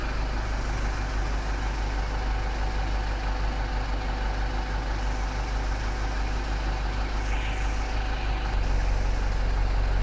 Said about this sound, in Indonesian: tutorial cara memanasi mesin unit bis medium kol diesel